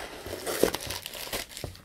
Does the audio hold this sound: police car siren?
no